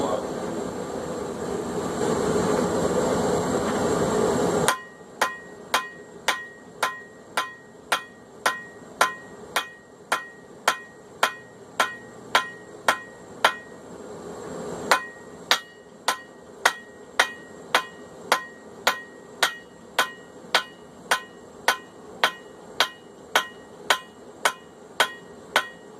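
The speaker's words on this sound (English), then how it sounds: "I'm going to forge these bevels out right here now." A steady run of ringing hammer strikes forges the bevels of a steel knife blade, evenly paced and loud, following a roaring blower-like rush at the start.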